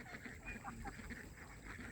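Domestic ducks on a farm quack in a few faint, scattered calls over low background noise, with no clear talk.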